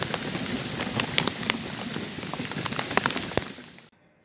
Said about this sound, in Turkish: Yağmur bayağı bir hızlandı, gerçekten